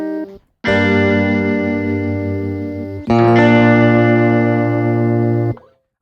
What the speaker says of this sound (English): the Mellotron is really dominating here